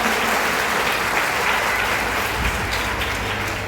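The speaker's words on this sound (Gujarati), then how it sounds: "પહેલા તો પોતાના માટે તાળીઓ પાડો" An audience at a school's annual festival claps together in sustained, dense applause, a steady wash of many hands with no break, filling the hall at an even level.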